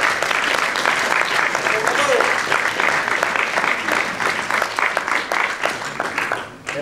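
An audience at the Cinémathèque de Toulouse applauds Daniel Prévost and Noël Godin, dense sustained clapping from a full room that stays loud throughout and thins slightly at the very end.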